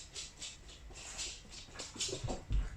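A dog whimpers and shuffles nearby, soft repeated whines and snuffling over a couple of seconds, fairly quiet and close.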